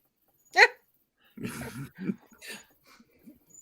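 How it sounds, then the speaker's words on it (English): A dog gives a sharp bark, then a few softer yelps and whimpers at moderate distance, with pauses between them and no talking over them. "Which dog's barking?"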